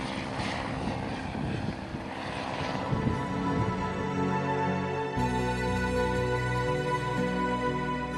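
A helicopter flies over Réunion island, its engine and rotor droning loudly and continuously from inside the cabin, with the tone shifting partway through and no talking.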